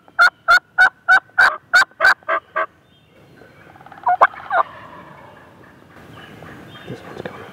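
Wild turkey gobbling on public land during spring hunting season: eight sharp, evenly spaced gobbles ring out loud and close, then a couple of softer, more distant gobbles sound over rustling and faint background noise.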